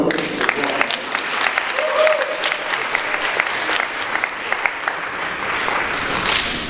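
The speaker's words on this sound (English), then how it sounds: "Let's give them another round of applause." Conference audience applauding in a steady, dense round of clapping that carries on for several seconds, with faint voices mixed in.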